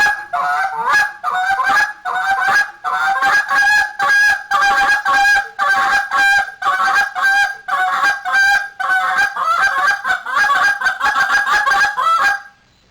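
A goose call is blown through a contest sequence of clucks, spit notes and double clucks: loud, rapid, honking bursts in tight clusters with brief gaps, close and alone.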